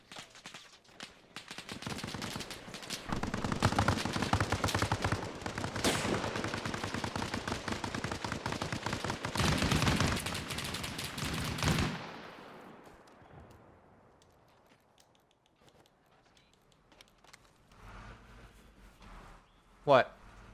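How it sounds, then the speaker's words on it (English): A gun firing in long, loud, sustained automatic bursts that cut off abruptly and leave quieter background sound, then a sharp single bang near the end, with people talking over the shooting. "I hear his gun shooting."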